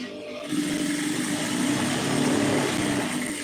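A sewing machine runs a stitch along a blouse band, starting after a brief pause and then whirring in a steady, close mechanical drone until it slows slightly at the end.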